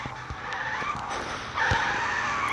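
A car speeds and skids in the Gangstar Vegas video game, with a steady engine roar, sharp tire squeals and a louder skid toward the end.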